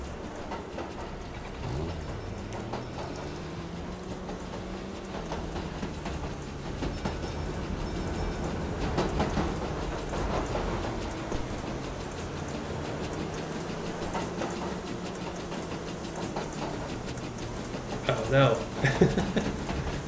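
A steam train in a video game runs steadily. Its rumble is continuous and mid-level, with a low tonal drone that rises and falls and a faint rattle. Near the end come a few brief clanks.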